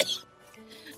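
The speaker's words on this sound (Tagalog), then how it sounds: "Ang sama ng tunog ng ubo mo." A single cough at the start, moderately loud and close, followed by quiet room tone with faint low voices.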